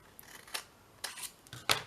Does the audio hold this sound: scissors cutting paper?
yes